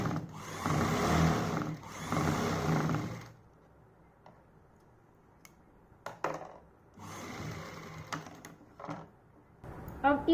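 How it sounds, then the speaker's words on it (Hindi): A sewing machine runs in two loud continuous bursts while double-stitching a palazzo seam, then falls quiet apart from scattered clicks and handling noises, with a voice speaking intermittently. "ऐसे हमें इस पर डबल सिलाई कर देनी है।"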